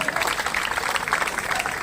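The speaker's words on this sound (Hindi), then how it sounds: "जोरदार तालियों से अभिनंदन" Villagers clap loudly at a gathering in Haryana to welcome guests; a brief, dense burst of applause from a nearby group, steady and even throughout.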